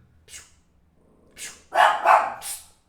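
A small dog barks several times nearby, a sharp yip, a pause, then a quick burst of three louder barks indoors.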